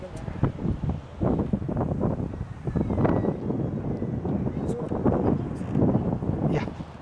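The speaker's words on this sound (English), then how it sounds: "Just bear with me, a little bit wind." Wind buffets an outdoor microphone during a destination wedding ceremony in Los Cabos, a low rumbling gusting noise mixed with voices talking nearby.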